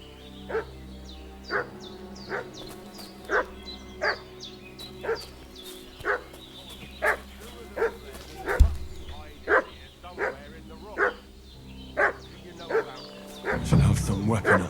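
A dog in the video game Kingdom Come: Deliverance II barks repeatedly at a steady, regular pace, each bark distinct and moderately distant, with a brief thud midway and a burst of other sound at the end.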